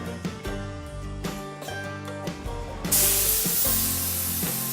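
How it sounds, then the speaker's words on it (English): A boot steamer lets out a sudden loud, steady hiss of steam onto leather boot tops partway through, entering after rhythmic music in a boot workshop. "Then we steam all of the boot tops in a boot steamer."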